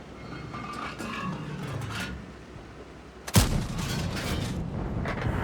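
A tank cannon fires in the online game World of Tanks, one sharp loud blast cutting in midway through a rumbling engine and battle ambience, followed by a lingering roar.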